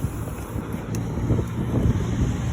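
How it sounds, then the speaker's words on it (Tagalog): Gusty wind buffets the microphone during a solo night mountain bike ride on urban enduro trails in Dubai, a steady low rumble that swells and eases throughout with no speech. "Medyo mahangin."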